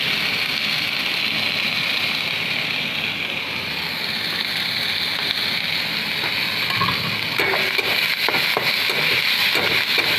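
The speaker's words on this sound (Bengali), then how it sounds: "এবার আমি একটু ভাজবো। এই শাক একটু ভাজা ভাজা করলে খুব ভালো লাগে।" Chamlai greens, softened and salted, frying in a pan with a steady moderate sizzle and a few stirring scrapes toward the end, heard alone with no talk.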